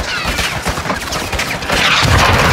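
Sustained gunfire and explosive booms from the Call of Duty Modern Warfare 2 video game, a dense continuous barrage that grows louder and heavier toward the end, with no talk over it.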